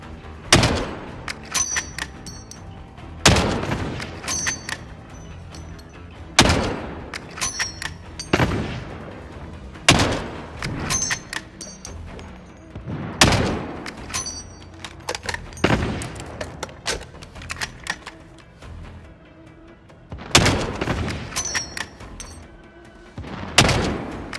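Rifle shots in a sniper video game, a long sequence of roughly eight loud sharp reports spaced a few seconds apart, each followed by a short echoing tail and scattered smaller clicks and impacts between them.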